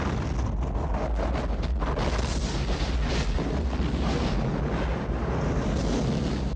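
A gas explosion on the third floor of a building in a Sylvester Stallone action film sends out a sustained, dense roaring blast that holds steady and loud for several seconds, with no voices heard.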